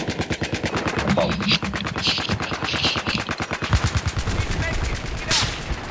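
Video game gunfire during an assault-class match, loud continuous rapid shots that briefly ease and then resume, with occasional other game effects and a voice talking faintly underneath.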